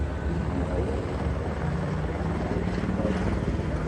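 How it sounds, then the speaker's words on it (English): A police helicopter hovers above a Hollywood street, its rotor a steady, continuous thrum that fills the whole clip at a constant level, with no voices over it. "There's a police helicopter"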